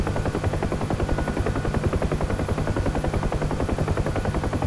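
A UH-1H Huey helicopter armed with miniguns in the DCS flight simulator gives a loud, continuous, close rotor thumping that stays steady throughout.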